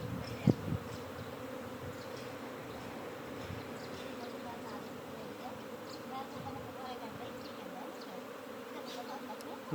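A swarm of escaped honeybees drones continuously and evenly nearby, a sustained insect hum with one short knock early on.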